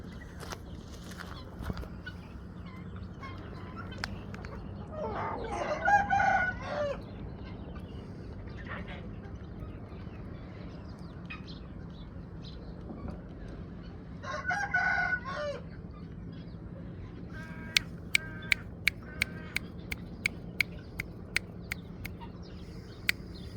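An Indian breed rooster crows twice, some seconds apart, moderately distant over quiet background, followed by a few sharp clicks.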